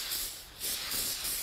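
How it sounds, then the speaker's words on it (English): An aerosol spray can gives a steady high-pitched hiss in bursts onto a PC motherboard, pausing briefly and then resuming with a couple of longer sprays, close to the microphone. "give it a spray"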